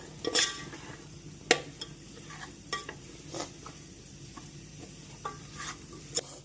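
A spoon scrapes and clatters in a pan as beef masala with chili powder is stirred, giving intermittent sharp scraping strokes over a low sizzle, close and fairly quiet, with nobody speaking.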